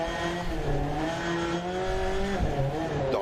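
A rally car engine in a Monte-Carlo rally driving game pulls hard out of a corner, a loud steady rising whine with clear harmonic tones, briefly dipping as it shifts before climbing again, with no talking.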